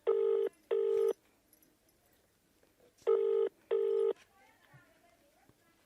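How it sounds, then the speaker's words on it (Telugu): An outgoing phone call rings through the earpiece: two clear double-pulse ringback tones separated by a pause, fairly quiet and steady, with faint background noise between them. "సో ఫోన్ చేసే ప్రయత్నం అయితే చేద్దాం ఒకసారి"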